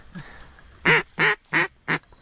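Four loud, nasal duck quacks ring out close by in quick succession during a duck-hunting opener in a field, with a quiet gap before them and no talking.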